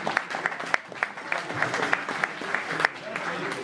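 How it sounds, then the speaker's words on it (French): An audience at a classic car rally gathering in Aude gives moderate applause with distinct rhythmic claps standing out over the crowd, while someone talks over it. "On peut les applaudir bien fort."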